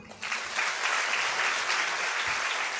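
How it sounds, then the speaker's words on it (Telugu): An audience at a church gathering breaks into loud, sustained applause, many hands clapping together close and steady for a few seconds with no speech over it. "ఇప్పుడు కొట్టండి చప్పట్లు"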